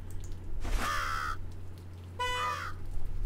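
A crow caws twice in the Bonfire Stories: Faceless Gravedigger video game, two loud harsh calls about a second apart over a low steady background hum.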